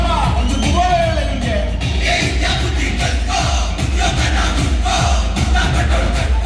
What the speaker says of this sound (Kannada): ಇನ್ನು ಜೋರಾಗಿ ಬರಲಿ ಚಪ್ಪಾಳೆ.